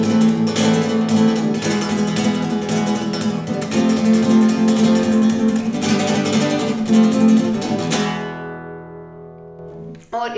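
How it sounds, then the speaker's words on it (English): Flamenco triplet (abanico) strummed on a guitar, a dense, steady rhythmic flurry of bright chords for about eight seconds before ringing out and stopping, with a brief sound at the very end. "I'm going to teach you how to do the flamenco triplet"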